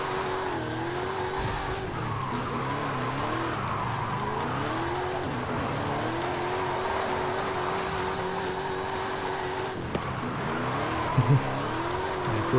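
A Toyota 86 drifts around a corner, engine note rising and falling in wavering revs over continuous tire squeal and skidding, loud and sustained for several seconds with a few sharper bumps near the end.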